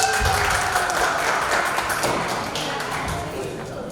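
Applause from an audience at a motivational seminar: dense, continuous clapping that holds fairly loud and even, easing slightly toward the end, with some voices mixed in.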